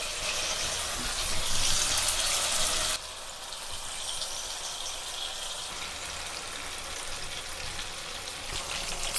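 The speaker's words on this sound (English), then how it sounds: "Now I am going to add the marinated pieces to the oil. So I am going to fry this one in a low flame." Marinated fish pieces sizzle in hot oil on a tawa over a low flame, a steady bright hiss that drops slightly in intensity partway through and continues evenly, close and without talk.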